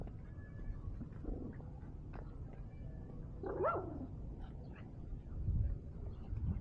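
Dogs barking at a house, a few short sharp barks and a brief yip scattered over several seconds, moderately close against a low background hum, with no speech.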